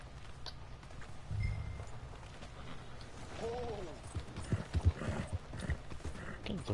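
Steady hoof clip-clops of a horse walking in Red Dead Redemption 2, layered over game ambience and music, with a brief whinny-like tone midway.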